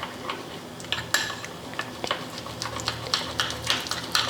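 A spoon scrapes and clinks against a metal pan while a spoonful of wheat flour is stirred and sautéed in ghee, giving irregular close taps and scrapes over a low background hum, with no talking.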